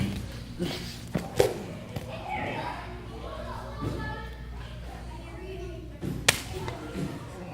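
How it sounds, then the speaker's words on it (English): A Krudo Snag flail weapon is swung during martial arts technique practice, producing sharp whooshes and thuds at irregular intervals while a voice talks throughout. "a couple of techniques using the flail. With the weight of this particular weapon, the snag, a lot of motion, a lot of velocity coming in."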